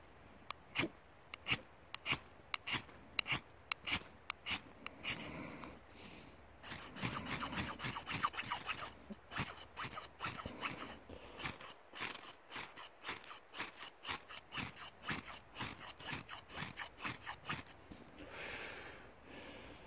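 A Roamer knife scraped against a striker to throw sparks outdoors, a rapid series of sharp scraping strikes, sparse at first and then dense and continuous, close and fairly faint.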